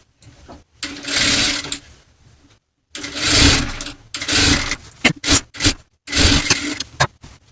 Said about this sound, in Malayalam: സെൻറ്ററിൽ നിന്ന് ഇതുപോലെ ഈ ഒരു സൈഡിലേക്ക് സ്റ്റിച്ച് ചെയ്തെടുക്കുക